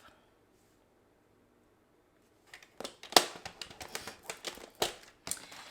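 A paper trimmer slicing through card stock while making a pleated card, heard as a run of sharp, close clicks and short scraping cuts after a quiet start, with no talking.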